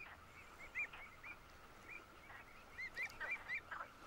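Pied avocets call across a salt marsh, giving short, sharp, faint notes that come singly and then in a quicker cluster near the end.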